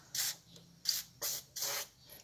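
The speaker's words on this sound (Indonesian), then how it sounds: "Oke, langsung saja kita semprotkan ke bagian puli maupun di bagian masterpiece nya friend." WD-40 aerosol sprayed onto a car's AC clutch pulley in four sharp hissing bursts, each about a third to half a second long, close and clear with short pauses between.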